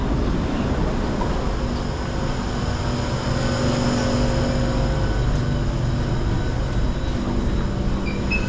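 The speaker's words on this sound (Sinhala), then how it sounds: "මේ මට පිටිපස්සේ තියෙන මෙට්‍රෝ එක." A Singapore metro train rumbles steadily close by, with a continuous low hum and faint high whine throughout and no talking.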